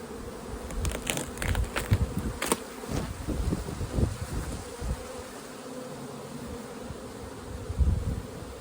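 Honeybees swarm and buzz around an opened hive packed full to the top, a dense, steady hum that runs through the whole stretch with louder surges early on.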